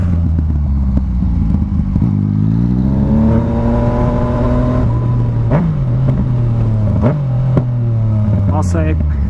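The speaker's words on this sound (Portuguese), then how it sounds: "vocês não tem noção, velho, do barulho que essa moto faz" A Yamaha MT-09 motorcycle revs loudly and close, its engine pitch climbing and falling through several sweeps, with a few sharp blips and a voice talking over it.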